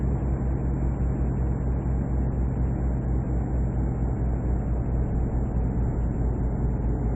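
A heavy truck engine drones low and steady as it labours up a hill in Euro Truck Simulator 2, a constant loud rumble with no breaks.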